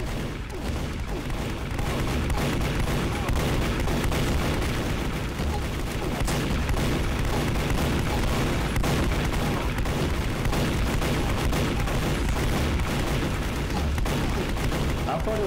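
In TF2, revolver shots and a spinning minigun produce dense, near-continuous gunfire, loud and close, with sharp overlapping cracks and booms for the whole stretch.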